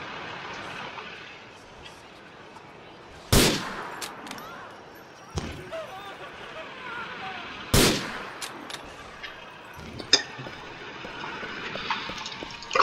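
Two sharp, loud gunshots ring out about four seconds apart in Grand Theft Auto IV on PC, followed by a few fainter pops and knocks over a steady ambient game background with no talking.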